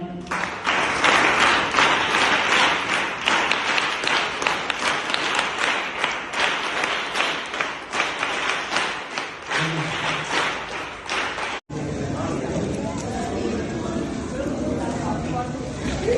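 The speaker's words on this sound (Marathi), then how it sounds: "पुन्हा एकदा टाळ्या वाजून तुम्ही स्वागत करा" Sustained loud audience applause at a gathering in an orphanage, dense rapid clapping for about eleven seconds that cuts off abruptly, followed by quieter room noise with people talking.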